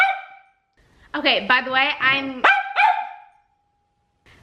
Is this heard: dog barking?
yes